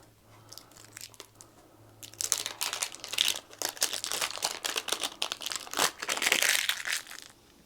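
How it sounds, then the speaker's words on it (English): Plastic wrap crinkles and crackles as it is peeled off a Niupipo Explorer Pro pickleball paddle, close and loud in dense bursts that build after a quieter start, with no talking. "Let's pull the plastic off here."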